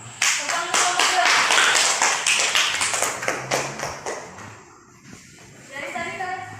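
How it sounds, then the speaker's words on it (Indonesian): A primary school class at SDN 57 Pakatan claps for a group after its presentation, a burst of quick sharp hand claps that thins out and fades near the end, with a voice speaking briefly afterward. "Tepuk tangan untuk kelompok 2."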